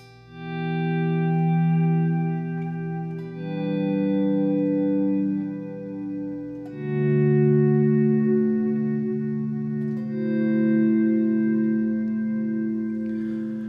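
Slow, swelling guitar notes fade in without a picked attack, trailing into bright, clean stereo repeating echoes from a Strymon Timeline delay pedal that layer into a sustained, shimmering wash.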